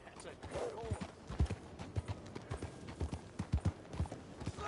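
Horse hooves clip-clopping at a walking pace in the Western video game Red Dead Redemption 2, an uneven run of dull thuds under a voice and quiet background ambience.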